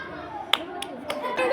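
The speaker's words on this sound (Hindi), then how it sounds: "ताली मार" Children in a classroom clap in a few separate, sharp bursts, roughly four claps spaced unevenly over a second and a half, with a faint murmur of young voices underneath.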